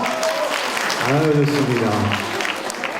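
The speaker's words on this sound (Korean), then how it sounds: "박수 주세요" Audience applause at a televised Daegu TBC singing academy event, a steady broadband clapping wash running throughout while someone speaks loudly over it.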